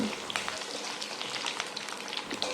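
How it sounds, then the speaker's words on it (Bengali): Pointed gourd (potol) pieces frying in white oil in a wok, a continuous close crackling sizzle with scattered pops throughout. "পটলগুলো আমি ভেজে নিচ্ছি"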